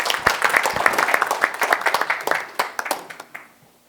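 Audience applause for a guest professor taking the stage at a breakfast lecture forum: a dense crowd of clapping hands, steady and loud, fading out near the end.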